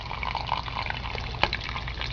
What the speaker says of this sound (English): This is water pouring right as we speak from the wall.